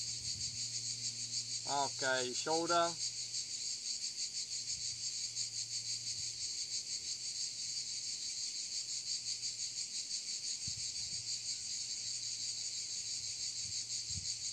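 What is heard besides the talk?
cicadas chirping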